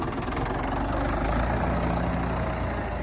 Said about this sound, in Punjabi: ਟਰੈਕਟਰ ਬਾਈ ਇੰਜਨ ਇੰਜਨ ਪੂਰਾ ਕਾਇਮ ਹੈ ਘੋਰਾ ਬਲੋ ਨਹੀਂ ਹੈਗੀ ਟਰੈਕਟਰ ਦੀ